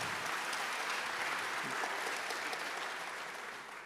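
A conference keynote audience breaks into steady applause in a large hall, a continuous wash of many hands clapping at moderate level that tapers off slowly toward the end.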